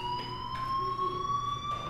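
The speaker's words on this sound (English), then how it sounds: "Do you hear that fire alarm?" A fire alarm rings inside a school building in the video game Life is Strange, a continuous, fairly faint electronic tone that stays steady throughout, with no talking over it.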